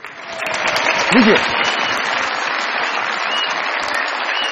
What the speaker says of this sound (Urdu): بہت ساری تالیاں محمود علی صاحب کے لیے